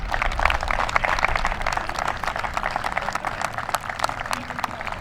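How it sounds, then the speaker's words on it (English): Crowd applause for a school district's all-star teachers at a stadium sports event, a steady spread of clapping that runs the full length without letup. "please give a final round of applause to our Colonial School District All-Star teachers"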